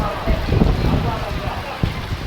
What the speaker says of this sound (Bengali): বাইরে প্রচণ্ড বৃষ্টি পড়ছে